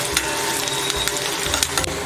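Soaked chana dal goes into a hot, sizzling pan for a Malvani jackfruit vegetable, giving a steady close frying hiss with light stirring scrapes throughout.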